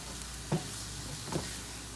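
Shrimp sizzle steadily in grease in a frying pan, a continuous close hiss broken by two soft stirring clunks.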